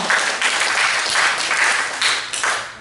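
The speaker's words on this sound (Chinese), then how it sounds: "我们是不是先给自己一个掌声哦" Audience at a university case competition applauds, a dense, sustained burst of many hands clapping at close range that rises and swells for several seconds.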